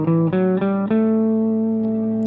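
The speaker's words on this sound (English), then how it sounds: "I'll just briefly play the scale up and down so you know" An electric guitar with effects plays a few notes of a blues scale over a looped pad. Three quick note changes lead into one sustained, ringing tone.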